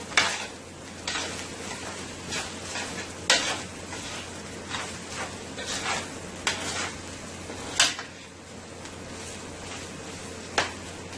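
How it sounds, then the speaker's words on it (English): Rice fries steadily on medium heat in a hot pot while a utensil scrapes and stirs, with occasional sharp clinks against the metal. "I'm going to let my rice fry on medium heat for about 3 to 4 minutes."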